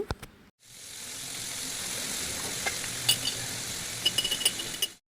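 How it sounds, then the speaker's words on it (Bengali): Pieces of rohu fish and potato frying in hot oil in a pan, a steady loud hiss and sizzle after an opening clatter, with a few small pops and taps, then cutting off abruptly. "এখন মাছ ও আলুগুলো তেলের মধ্যে চার পাঁচ মিনিট সময় নিয়ে ভেজে নিচ্ছি"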